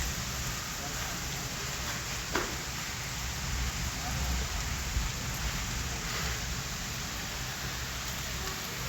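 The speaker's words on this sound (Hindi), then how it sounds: "बारिश बहुत हो रही है देखो जी।" Heavy rain pours down in a dense, constant hiss, close and steady throughout, with occasional louder drips and a voice faintly underneath.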